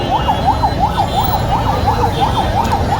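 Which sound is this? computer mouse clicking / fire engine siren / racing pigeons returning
fire engine siren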